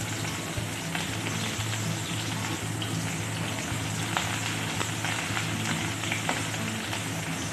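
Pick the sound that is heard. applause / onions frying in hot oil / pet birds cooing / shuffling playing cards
onions frying in hot oil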